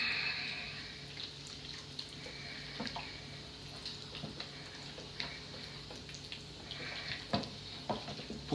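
Carbonara pasta being stirred with pasta cooking water, with soft wet clinks and scrapes scattered over a low background hiss and a faint high tone, close and fairly quiet.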